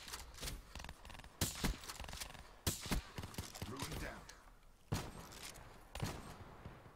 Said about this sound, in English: You heard that shot.